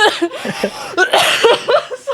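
Several rough, bursty coughs in quick succession, close and fairly loud, with a throaty, choking quality, from choking on a bit of coconut.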